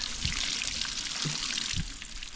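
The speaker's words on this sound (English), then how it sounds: "Gonna just pour that out and double check." Water poured out of a plastic jug, a steady close splashing gush with a few soft hollow thuds from the jug, no voices.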